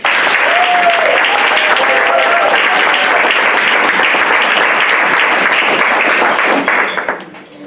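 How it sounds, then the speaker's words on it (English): An audience gives a loud, dense round of applause to an elder speaker after her presentation, sustained clapping filling the room for about seven seconds with a voice briefly audible underneath before it abruptly fades. "We just want to give you another hand clap."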